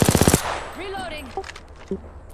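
Video game gunfire in Apex Legends: a fast burst of close automatic shots opens, followed by fainter game effects, a swooping tone and a couple of short clicks.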